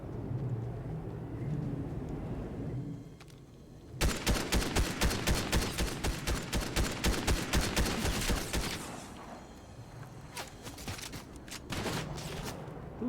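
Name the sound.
gunfire in a video game (Fortnite)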